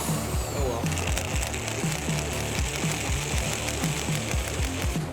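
A drill bit grinds into a hardened steel bracket on a Dana 60 axle being fitted under a Jeep YJ. The drilling is loud, steady and close, with a dense rattling, chattering texture and no pause.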